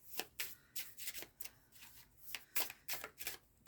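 Tarot cards being shuffled by hand, with a run of quick, crisp riffling bursts in an uneven rhythm, close and fairly quiet.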